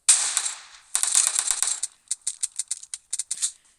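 Gunfire in the battle-royale video game PUBG, a sustained automatic burst followed by a run of rapid, evenly spaced sharp shots, crisp and moderately loud, with no talking.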